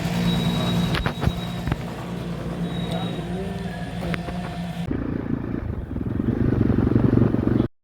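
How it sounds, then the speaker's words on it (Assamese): A motorcycle carries riders at night after refueling at a fuel depot, its engine droning steadily with road rumble and wind, plus a few clattering knocks. "মধুৰ লগত বাইকত উঠিলোঁ"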